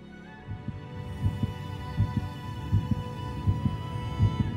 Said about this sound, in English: to show your heart beating.